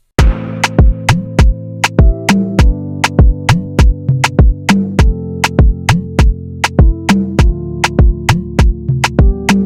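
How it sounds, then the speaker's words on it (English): Drum loop with a melody run through a mixing plugin: punchy kick hits and a sharp snare or percussion in a steady fast rhythm, with pitched tones sliding underneath, loud and close. "I'm playing the drum loop with the melody that we had earlier on"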